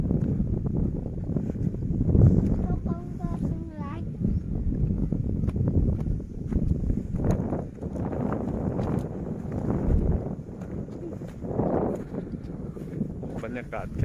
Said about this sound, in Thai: ลมเย็นๆเลยพี่น้อง